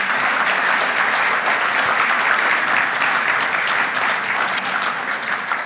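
An audience at a corporate fleet and automobile mobility gala claps continuously, a dense, even wash of applause from many hands that holds steady throughout.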